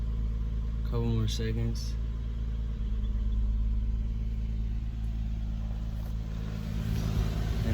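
A 2006 Infiniti G35 engine idles steadily after an oil change, a constant low hum running throughout while a person speaks briefly over it near the start.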